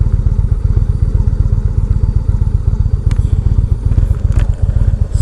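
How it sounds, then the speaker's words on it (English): A 2016 Indian Roadmaster motorcycle rides along, its engine giving a loud, close, rapid pulsing throb with some clatter and wind, steady throughout with no voices. "I must say I am very impressed though with this Indian Roadmaster, the 2016 model."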